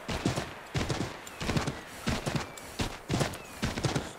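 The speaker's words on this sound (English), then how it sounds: "I'm running with the horse like for a couple of minutes now" Horse galloping in the video game Assassin's Creed 3, a steady rhythmic clip-clop of hooves in repeated quick groups, moderately close and unaccompanied by talk.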